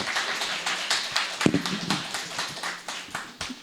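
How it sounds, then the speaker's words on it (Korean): Audience members at an academic symposium clap in welcome for a speaker, a thin, uneven run of individual claps, close and distinct rather than a dense ovation. "여러분 큰 박수로 맞이해 주십시오."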